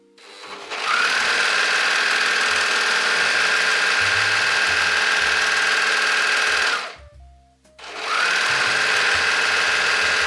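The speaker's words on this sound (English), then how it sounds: "We're gonna overlock now the entire side edge on both sides." An overlocker sewing machine overlocks the side edges of a puffy cloud dress, running loud and steady for about six seconds, stopping briefly, then starting up again, with no talking.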